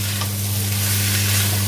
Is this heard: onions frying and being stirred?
yes